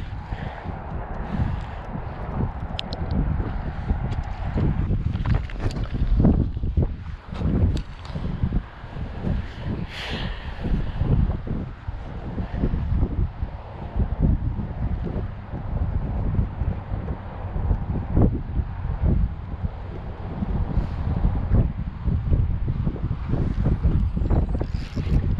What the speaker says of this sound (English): But because it's so windy